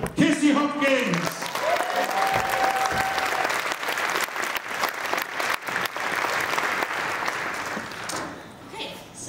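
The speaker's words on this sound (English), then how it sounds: "Cheer like you've never cheered before." An audience at an International Women's Day event cheers and claps loudly to welcome a speaker, with a shout or whistle early on, then steady applause that tapers off near the end.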